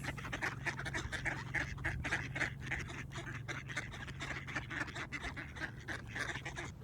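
Wild ducks quack in a steady run of rapid, overlapping calls outdoors, moderately close and fairly quiet, with no talking.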